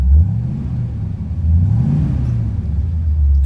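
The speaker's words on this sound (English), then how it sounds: "Very nice sound, better than the original Corvette sound out of the factory." A 1970 Corvette T-top coupe's engine revs close up. A deep, rumbling burble rises and falls through a couple of short throttle blips over a steady low idle, with no voices.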